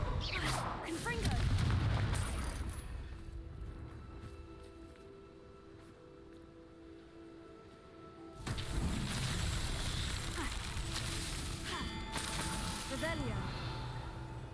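Fire spell explosions in the game Hogwarts Legacy, loud booming blasts with crackling rumble that swell, ease, and then hit again, while a player's voice casts spells over the game audio.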